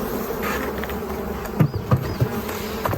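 Honey bees hum steadily around a hive fitted with a second brood box in May, with a few soft knocks and handling bumps mixed into the buzzing.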